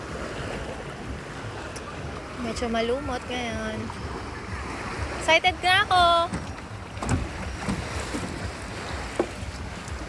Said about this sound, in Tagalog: tinutulak na nila kuya yung bangka namin